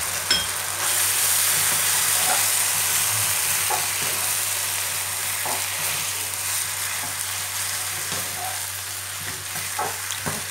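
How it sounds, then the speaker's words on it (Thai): Wide rice noodles with chicken stir-frying in a hot pan, a loud continuous sizzle with steady spatula scrapes and taps running throughout. "เดี๋ยวเราผัดเข้าไปสักแป๊บหนึ่งนะคะ"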